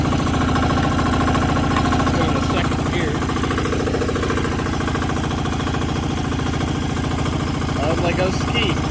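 A diesel Sears garden tractor plowing in second gear, its engine a loud, steady, close drone with a rough knocking pulse that carries on unchanged throughout.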